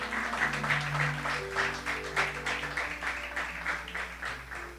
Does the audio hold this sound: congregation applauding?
yes